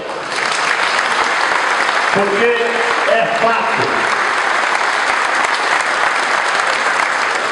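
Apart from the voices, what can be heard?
audience applause for the donors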